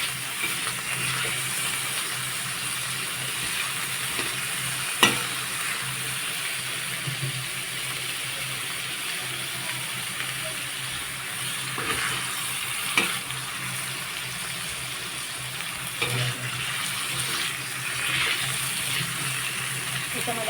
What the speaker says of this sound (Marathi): पनीरचे तुकडे खरपूस आपण भाजून घ्यायचे. वाटण भाजलं होतं त्याच तेलामध्ये.